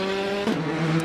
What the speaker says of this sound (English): A very nice sliding with the handbrake